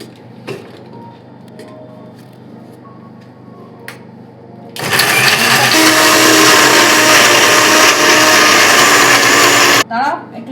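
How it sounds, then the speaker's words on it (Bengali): An electric mixer grinder blending washed meat and chopped onions: after a few quiet seconds of small clicks, the motor kicks in with a loud, steady whirring grind for about five seconds, then cuts off abruptly. "এবার আমি একটুখানি মিক্সারে ঘুরিয়ে নিই"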